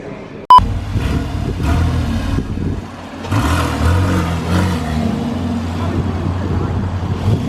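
A Porsche Boxster Spyder engine rumbles nearby, a sharp click followed by a steady low growl that swells and eases with throttle, with talking at moments.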